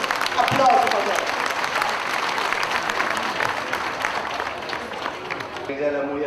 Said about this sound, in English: let's give him applause for that